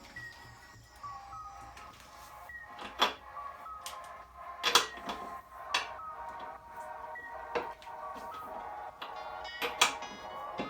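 A spanner tightens 17 mm and 24 mm chain adjuster nuts on a motorcycle, giving scattered sharp metallic clicks and taps close by, spaced irregularly over a quiet background.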